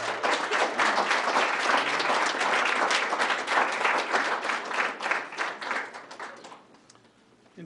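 A school board meeting audience breaks into strong, close applause, many hands clapping briskly for several seconds before the sound gradually thins and dies away near the end.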